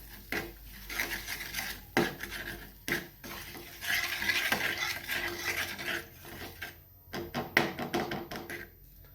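A spoon scrapes and clinks against a cooking pan, stirring turmeric powder and salt through the contents in irregular bursts of close scraping, with a faint sizzle underneath and brief pauses between strokes.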